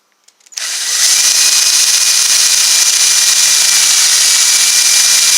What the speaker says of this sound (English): So I'm just drilling down through it